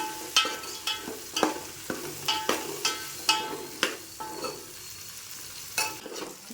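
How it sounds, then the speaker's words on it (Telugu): Slit okra fries in a pan for fish pulusu, giving a soft, steady sizzle broken by a dozen or so sharp scraping stirs at irregular intervals, close by and with no talk. "బెండకాయలు ఇట్లా మధ్యలోకి చీర్చుకొని ఇట్లా పెట్టి తీసుకుంటే మన పులుసు అనేది మంచిగా పడుతుంది ఇది కొంచెం మంచిగా ఎర్రగా వేయాలి"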